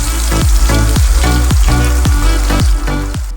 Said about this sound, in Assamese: মছলাখিনি অকণমান ভালদৰে ভাজি ল'ম